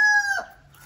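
A crow calls once nearby, a short loud tonal cry that fades within half a second, heard outdoors while fish are being cut and cleaned.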